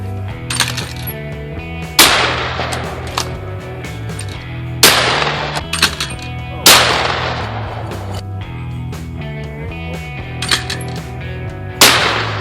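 Shotgun blasts at clay targets outdoors during a Thanksgiving gathering: about five loud, sharp booms spaced a few seconds apart, each with a ringing tail, over a steady background of tonal noise.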